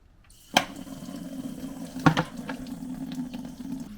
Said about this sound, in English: let's start dumping fluids